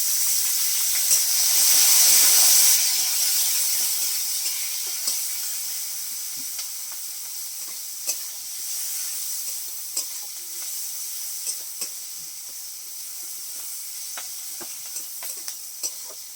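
Green chilli and onion dropped into hot oil in a wok, a loud hissing sizzle that swells early then settles into a steady fry, with light scraping stir taps scattered throughout.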